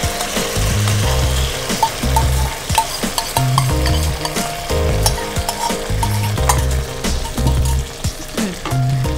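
Moong dal paste cooking with khoa in ghee in a restaurant kitchen, loud thick sizzling under repeated rhythmic scraping and stirring strokes of a spatula against the pan, close and busy throughout.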